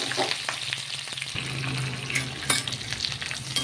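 Cardamom and a single onion frying in a pan for a mutton gongura curry, a constant close sizzle with a few brief clinks of stirring.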